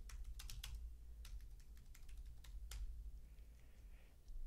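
Typing on a computer keyboard while entering text in a blog editor: irregular bursts of quick, fairly quiet keystrokes over a steady low background hum, with no voice.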